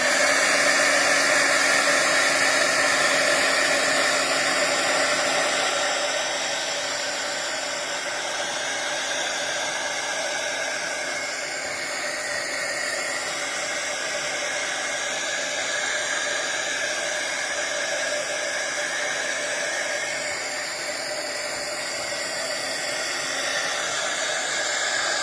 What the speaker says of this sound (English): that's what I'm going to use the heat gun for, is to try to dry this off a little bit